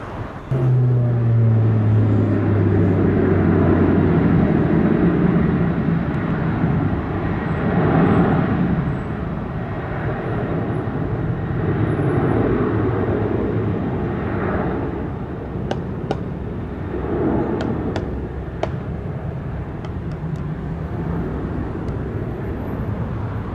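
A Southwest airliner takes off from runway 07 at Sangster International Airport in Montego Bay, Jamaica, a loud sustained jet roar with a low drone that holds steady and slowly fades over the clip.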